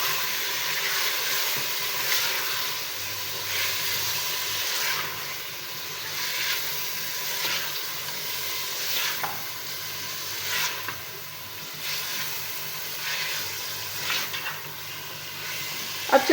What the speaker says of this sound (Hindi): और इसको भी 30 सेकंड के लिए हम इस तरह भूनेंगे ताकि टमाटर अपना थोड़ा सा जूस छोड़ दें।